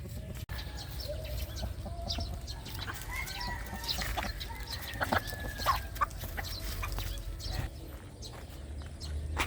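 Brown egg-laying chickens clucking steadily in a backyard flock, a busy layered chorus of close and farther birds with a few sharper calls over a continuous outdoor hum.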